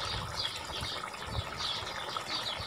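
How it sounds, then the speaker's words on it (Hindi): Rice water pours into a pot of beef yakhni pulao in a home kitchen, a continuous splashing gush that stays at a moderate, even level with small fluctuations throughout. "तो अब इसमें चावलों का पानी डाल देंगे।"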